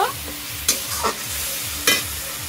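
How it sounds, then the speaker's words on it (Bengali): Spices, salt and tomato fry in a pan for a Bengali fig dish, a soft steady sizzle broken by a few sharp scraping stirs of a spatula, close and without speech. "আর নুন, মশলাটাকে একটু কষিয়ে নেব এই টমেটোটা গলে যাওয়া পর্যন্ত।"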